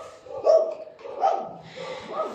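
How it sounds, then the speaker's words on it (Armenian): A dog barks at mealtime indoors, three separate short yapping barks spaced about a second apart, close by and moderately loud. "ինչ ես հաչում"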